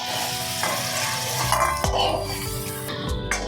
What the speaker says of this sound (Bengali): কাঁচকলাগুলো এবার আমি হালকা করে ভেজে নেব।